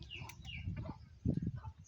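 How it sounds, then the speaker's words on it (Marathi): Desi country chickens on a farm, heard as a few short clucks and bird calls close by over low rustling background noise, with no talk. "हे बघा मित्रांनो, आपले गावरान पक्षी"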